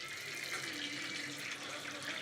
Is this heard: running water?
yes